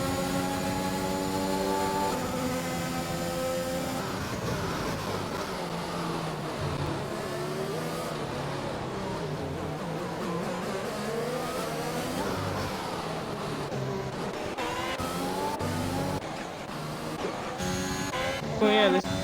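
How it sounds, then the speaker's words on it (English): Race cars, including Aston Martins, roar into turn 1 at the Mexico race, with engines revving and shifting pitch continuously as they pass close by, while a commentator speaks over the noise. "the two Aston Martins have just been overtaken into turn 1"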